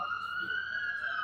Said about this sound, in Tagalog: Ingay-ingay itong pulis na ito.